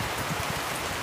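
Rain falls on a farm in Paraná, a dense, even hiss of drops hitting surfaces, steady and fairly loud with no voices.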